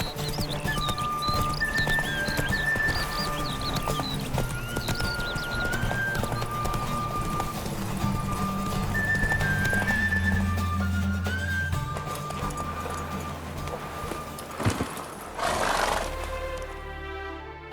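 A mare gallops in The Witcher 3, her steady clip-clop of hooves running under game music with an occasional neigh, and a louder burst of movement near the end.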